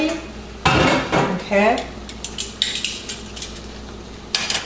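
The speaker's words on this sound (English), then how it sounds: "And now we are going to mix everything." Drained pasta stirred into sauce in a cooking pot, with loud metal scrapes and clanks of a utensil against the pot, several bursts followed by lighter taps, near and clear, with a brief spoken word.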